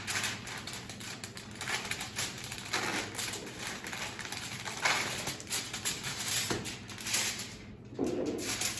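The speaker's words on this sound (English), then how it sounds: "you're gonna wrap it with the aluminum foil." Aluminum foil being wrapped around a cup: soft, irregular crinkling and rustling bursts heard close but quietly, with no talking.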